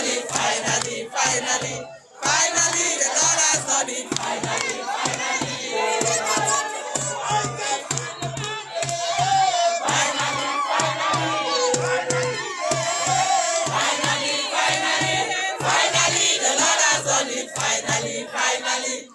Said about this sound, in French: Les chants furent instantanément repris par la foule massée à l'extérieur.